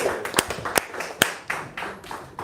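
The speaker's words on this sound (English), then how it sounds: "Clap it up for Alan" A comedy club audience at a pro-amateur stand-up night in Toronto gives a short round of clapping, a few sharp, distinct claps standing out over scattered lighter ones before it thins out.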